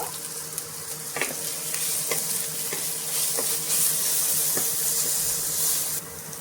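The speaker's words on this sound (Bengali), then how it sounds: "তো পেঁয়াজটা ভাজার সময় অল্প নুন দিয়ে দেব" Onions sizzling and frying with a little salt in a pan as a Bengali fish curry is prepared, a steady close hiss with a few soft clicks of stirring and no voices.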